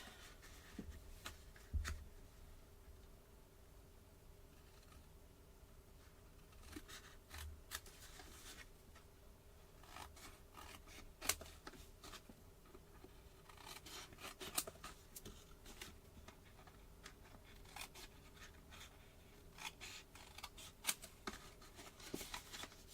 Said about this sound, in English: I'm going to cut a slither out of these.